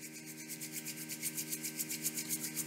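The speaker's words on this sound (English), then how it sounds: "I want you to rub your hands together really quickly for 30 seconds." Palms rubbed together quickly in a school wellbeing assembly, a steady close swishing friction with a regular back-and-forth rhythm that grows slightly louder over a few seconds, heard alone without talk.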